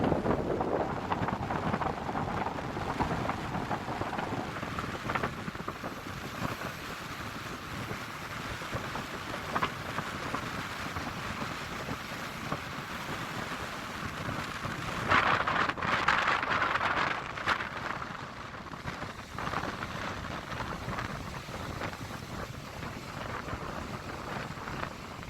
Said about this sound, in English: The ocean was wild and the wind howled.